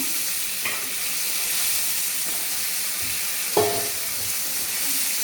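Steady loud sizzling of crab masala frying in a pan, with a few soft clinks and splashes as water is added, no voices.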